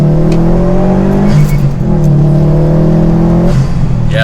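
A Subaru WRX STI engine revs up steadily under acceleration toward 6,000 rpm, its droning pitch climbing, dipping briefly as the gear shifts, then rising again, loud and close.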